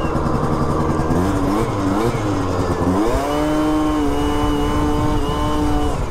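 A 70cc stunt-kit scooter engine revs hard and loud right up close, its pitch swooping up and down in quick bursts before settling into a high sustained whine.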